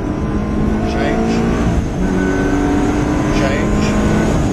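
A Ferrari engine accelerating with gear changes, a loud, close, continuous roar whose pitch climbs and resets at each shift, with someone talking over it.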